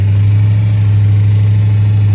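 A 2014 Jeep Grand Cherokee with a 6.4L 392 SRT engine, a Scat Pack build with a failing engine, runs at a steady loud idle, a deep, even rumble heard up close.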